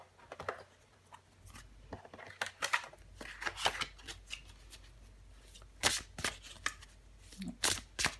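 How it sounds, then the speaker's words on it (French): Tarot cards being shuffled and drawn by hand: soft, close flicks, riffles and snaps of card stock in irregular bursts, with light handling noise between them. "Je vais encore tirer une carte pour vous."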